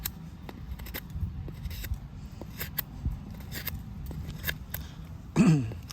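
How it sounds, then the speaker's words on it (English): A Demko FreeReign survival knife carves wood in light, scattered scraping strokes, faint and crisp, ending in a louder rasping cut. "So I'm just gonna try to carve a little bit, and then I'll attempt to feather."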